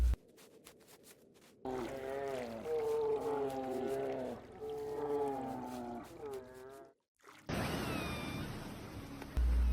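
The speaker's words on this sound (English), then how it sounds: "The killer whale," Killer whale, or orca, calls underwater, a series of wavering whistles and squeals over a dark, murky ocean rumble, fairly loud, with a brief break before a harsher splashing burst at the end.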